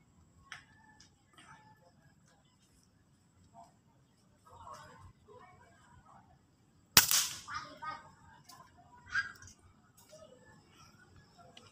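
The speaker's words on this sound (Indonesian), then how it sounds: "Tembakan pertama." Crown MK2 air rifle fired outdoors in the evening at a 30 meter target, one sharp sudden crack midway standing out against near silence, with faint ticks and small clicks before and after.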